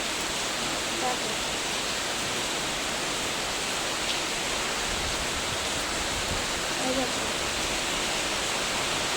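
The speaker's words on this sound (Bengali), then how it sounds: "প্রচণ্ড জোরে বৃষ্টি এসেছে" Very heavy rain pours down in a storm, a loud, steady broadband roar filling the whole clip, with a voice briefly speaking over it.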